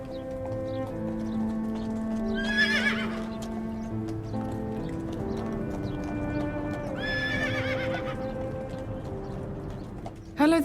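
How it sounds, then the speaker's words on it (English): A horse whinnies twice in loud, shaky bursts while its hooves clip-clop steadily underneath, close and clear, ending with a sharp knock. "A horse is a very gentle animal."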